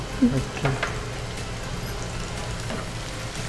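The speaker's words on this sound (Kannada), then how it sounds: "ಸ್ವಲ್ಪ ಫ್ರೈ ಆಗಬೇಕು" Chicken with onion and tomato frying in a pan, a steady close sizzle with a few soft stirring scrapes near the start and no talk over it.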